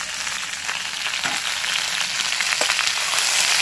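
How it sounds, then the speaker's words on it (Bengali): Steady sizzling and crackling of onions and green chillies frying in hot oil, continuous and close, with a couple of faint stirring clinks and no voices. "এবার সব কটাকে আমি একসাথে ভাজবো"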